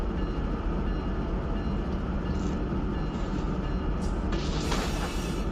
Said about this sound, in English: Fully loaded intermodal.